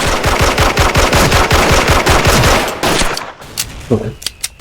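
A DRAGON G36C rifle in the online shooter Special Force fires a long, loud, rapid automatic burst for nearly three seconds. After a short pause, a few scattered single shots follow.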